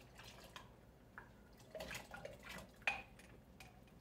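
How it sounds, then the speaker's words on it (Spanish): Water poured and swirled in a cup to rinse out tomato purée, using the pasta cooking water in a home kitchen, heard as faint splashing with light clinks of a cup against a pot, alone without talk. "La voy a enjuagar con una taza de agua, con el agua donde puse a cocer"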